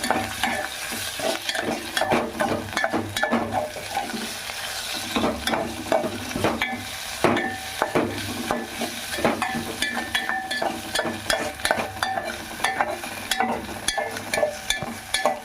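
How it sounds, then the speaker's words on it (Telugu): Ginger garlic paste frying in a pan for an Andhra-style gonguura egg curry, a steady sizzle broken by repeated scraping stirs from a spoon, close and fairly loud throughout with no talking. "అల్లం వెల్లుల్లి పేస్ట్ అయినా 1 స్పూన్ ఏముంది వేసి పచ్చి వాసన పోయేటట్టు మనం దాన్ని వేపుకోవాలి"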